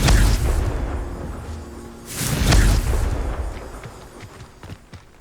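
Confringo fire spell blasts in Hogwarts Legacy, two loud booming bursts close together with rumbling decay, followed by quieter crackling and small pops.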